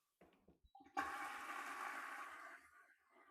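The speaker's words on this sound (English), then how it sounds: "It flushes quietly and efficiently, no matter what your home plumbing is like." A Bazyths ZYS1 smart toilet flushes with a sudden rushing swirl of water that holds steady for about a second and a half, then tapers off into quieter refill trickling, preceded by a few soft clicks and a brief tone.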